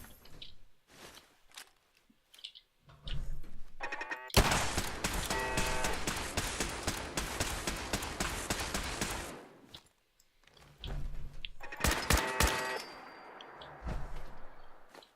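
Automated turrets fire sustained rapid bursts in the post-apocalyptic video game Fallout 4, a long dense clattering stream of shots with metallic clangs, then a pause and a shorter second volley, with no talking.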